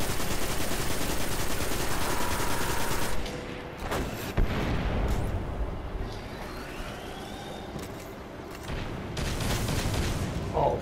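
Gunfire in the video game Destiny comes as a dense burst of rapid shots for the first few seconds, then scattered booms and impacts over quieter game ambience, with another burst near the end.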